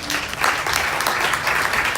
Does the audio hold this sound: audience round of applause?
yes